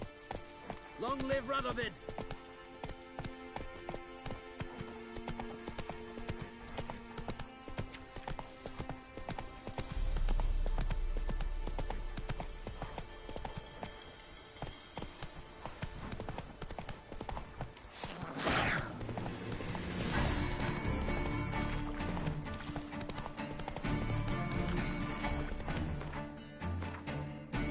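Roach the horse gallops in the video game The Witcher 3, hooves clip-clopping in a steady rhythm under game music, with voices speaking at times.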